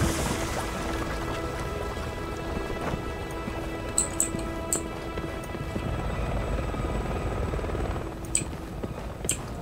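A helicopter flies in the video game Resident Evil 6, a steady, droning rotor hum that holds throughout, with a few sharp clicks and taps scattered over the top.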